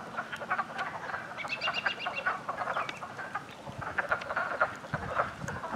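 A pond full of mating frogs croaks and trills in a thick overlapping chorus, some rapid pulsed calls standing out close by against the busy background.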